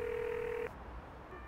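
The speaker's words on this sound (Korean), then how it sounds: "믿을 수 없는 소식에 태영은 계속해서 희원에게 전화를 걸어보지만" A telephone in a KBS TV drama, 순정복서, rings unanswered: one steady electronic ring tone sounds for under a second, then cuts off into quiet room tone.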